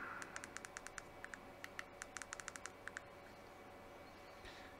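Typing on a small device keyboard, probably a BLU A120 phone's touchscreen: a steady run of quick, crisp taps in irregular bursts, close but quiet over a faint background hiss.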